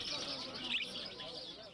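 Small caged birds chirp and tweet at a bird market in Afghanistan, giving a continuous busy twittering at moderate level with a background hum of activity.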